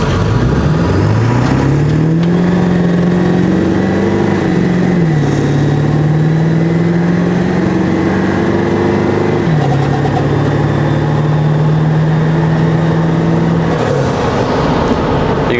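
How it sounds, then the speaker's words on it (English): Ford 7.3L Powerstroke diesel truck pulling from about 20 mph under full throttle, a loud, steady engine drone rising in pitch with audible drops as gears shift, and turbo whistle above it, heard from inside the cab. "You guys heard all that, the shifting, the turbo"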